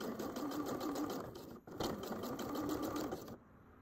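A sewing machine stitches piping onto a pocket in a rapid, steady whir, pausing briefly midway, then running again before stopping.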